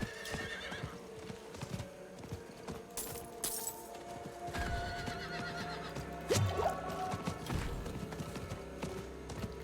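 Hoofbeats of Roach, a horse mount galloping through the video game Diablo 4, drum steadily with neighs and whinnies breaking through, set against game ambience and effects.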